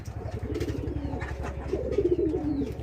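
Two male pigeons coo in deep, rolling, repeated calls close by, a steady low throb underneath and a louder warbling coo rising near the end.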